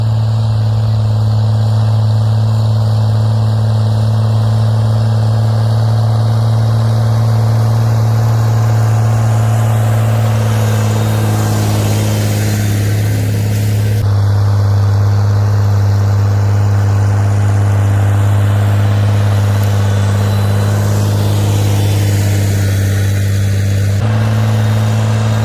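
A Farmall 756 tractor works a fast hitch plow through corn stalks, its engine a loud, steady low drone that shifts pitch briefly twice under load.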